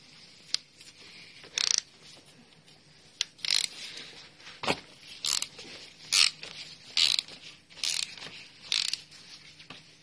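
A ratchet fitted with a 27 mm socket loosens the oil filter on a Peugeot 208 GTI, giving a series of short, crisp clicking bursts at irregular intervals, close and fairly quiet, with no talking.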